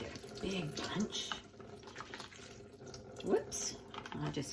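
Water spraying from a kitchen tap into a sink during cooking, a quiet hiss and splatter with small clattering sounds, heard faintly under a person talking.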